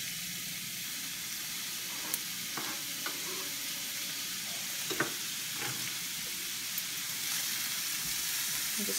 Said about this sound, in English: And just fry this up.